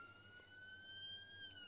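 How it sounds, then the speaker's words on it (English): An ambulance siren from the Emergency Ambulance Simulator video game wails steadily as a sustained electronic tone over a low engine hum, with no talking. "Please turn that siren off."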